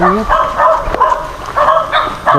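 A tethered dog at a mountain adventure camp on Mt. Arayat, Pampanga, barks and yips several times in short bursts, fairly close, with some background noise between the barks.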